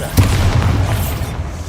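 In Hogwarts Legacy, a Bombarda explosion spell goes off as a single deep boom with a dull rumbling tail, fairly loud against the game's ambient bed.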